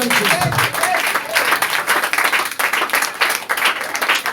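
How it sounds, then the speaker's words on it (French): A church congregation applauds and cheers the Lord in dense, continuous clapping, loud and close, with voices calling out over the applause throughout. "Est-ce qu'on peut acclamer très fort le Seigneur?"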